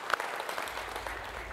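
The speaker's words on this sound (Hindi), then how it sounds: "ऑडियंस ताली बजा सकते है" Studio audience applause on a game show, a short burst of steady clapping from a crowd lasting under two seconds, fairly quiet and without any talk over it.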